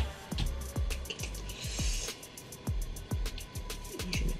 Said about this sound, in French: Je vais mettre de l'eau sur mon pochoir.